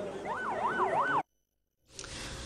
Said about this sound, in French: Autour du bâtiment, un balai d'ambulance.